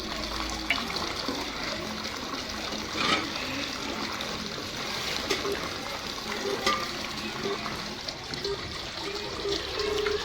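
Water gushing from a motor-driven pump at a school's three-phase supply, a continuous rushing, splashing flow that holds steady throughout at moderate distance, with no voices.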